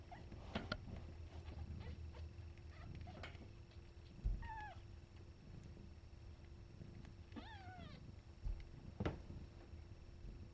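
Several young kittens jostle while nursing, giving a few short, thin mews and squeaky cries with rustling and shuffling, faint and close, spread across a quiet stretch.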